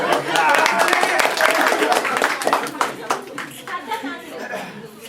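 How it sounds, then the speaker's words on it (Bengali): An audience claps loudly at a 20th anniversary celebration, with dense clapping that thins out toward the end, mixed with chatter and light laughter. "একটা হাত তালি খাই।"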